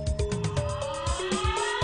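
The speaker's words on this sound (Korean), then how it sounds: "오, 사이렌 울린다." In the horror video game 괴이증후군, a siren wails over dense game sound, with steady tones that shift in pitch continuously through the short stretch.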